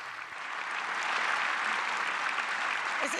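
Members of the German Bundestag applauding after the chancellor vote, a dense, sustained wash of clapping from a large chamber that swells and holds steady, loud and alone.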